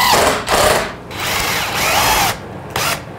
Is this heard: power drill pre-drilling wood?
yes